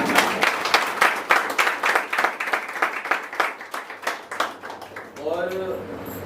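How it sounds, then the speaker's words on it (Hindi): At a stage play performance, an audience claps in a steady, rhythmic beat, about two claps per second with distinct sharp hits, until a voice begins speaking near the end. "और अब आप भी सब लोग तालियां बजा देंगे।"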